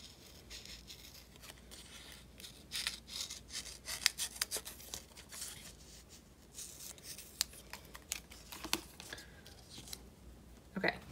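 Scissors snip paper while a budget planner page is trimmed, a quiet, close series of short irregular cuts and rustles spread across a mostly hushed room.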